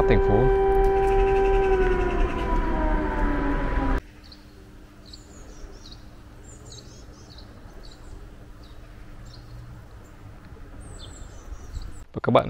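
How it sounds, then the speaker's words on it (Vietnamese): An air raid siren in wartime Ukraine wails across a city, rising and holding for about four seconds, loud and distant-sounding, then cuts off, leaving faint bird chirps over quiet background. "Thật đúng lúc bây giờ còi báo động lại vang lên"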